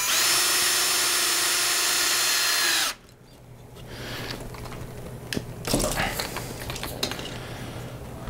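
A power drill drives a half pin into bone for a hexapod frame during equinus correction surgery, its steady high whine running loud for about three seconds before cutting off into quieter clinking and handling noises.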